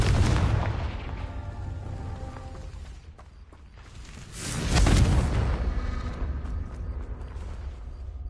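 Confringo fire spell blasts in the video game Hogwarts Legacy: a heavy, roaring burst at the start fades away, then a second loud boom swells about midway and slowly rolls off.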